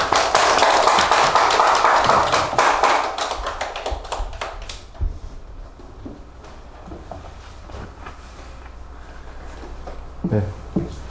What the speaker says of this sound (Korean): 우리 나오실 때 박수 환영하겠습니다.